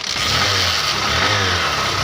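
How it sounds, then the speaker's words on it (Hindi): A new Hero Splendor BS6 E20 motorcycle engine runs just after a kick start, giving a close, steady idling hum that holds even for the whole moment, with no one talking. "नट वगैरह टाइट करने के बाद अब मैं बाइक को स्टार्ट करता हूँ"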